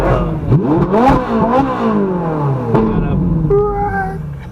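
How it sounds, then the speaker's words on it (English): A car engine revs hard close by, its pitch climbing and dropping in several quick surges before settling into a steadier drone. "Now that guy back there was asking Brian to rev it"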